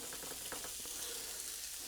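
Potatoes and onions sizzling and frying on a hot griddle, a steady crackling hiss with a few light scraping taps, no voices.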